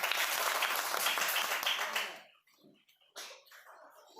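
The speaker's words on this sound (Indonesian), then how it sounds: "kita tepuk tangan untuk semuanya" Schoolchildren applaud together in a primary school classroom, a loud, dense burst of clapping for about two seconds that quickly fades, followed by a few scattered claps and faint voices.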